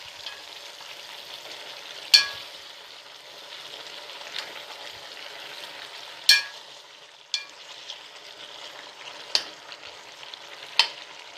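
Pumpkin and potatoes fry in a pan in a village kitchen, a soft steady sizzle punctuated by several sharp scrapes and clanks as a spoon stirs them.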